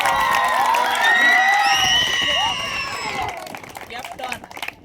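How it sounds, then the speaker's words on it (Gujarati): Children and a crowd cheer and shout loudly at a primary school cricket match prize ceremony for the winning team's captain. Scattered clapping sits in the mix, and the noise fades into looser calls near the end. "હવે વિજેતા ટીમના કેપ્ટન ખૂબ જ આપણે તાળીઓથી વધાવીએ"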